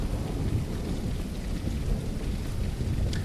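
Rain falls steadily during a thunderstorm in The Lightkeeper video game, a dense continuous hiss of rain on surfaces over a deep, rumbling low roar, heard without any speech.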